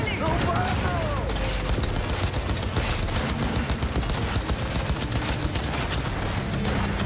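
Rapid bursts of Cyberpunk 2077 gunfire crackle over a constant loud mix of game sound effects, with a voice speaking briefly early on.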